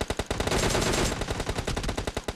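Rapid automatic gunfire in a video game shootout, a long rattling burst of evenly spaced shots, loud and close, continuing for the whole stretch.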